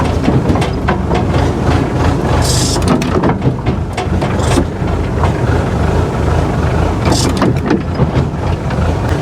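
An old excavator's diesel engine idles with a steady, loud chugging rumble, broken by a few sharp hissing bursts and clanks from the hydraulics and controls.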